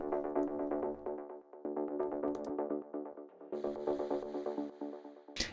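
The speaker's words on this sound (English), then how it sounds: "On top of that, we have a bit reverb and overdrive." A techno lead synth with echo, reverb and an overdrive layer plays repeated rhythmic stabs, loud and continuous, with a brighter distorted layer joining in the second half and a short crash-like burst at the end.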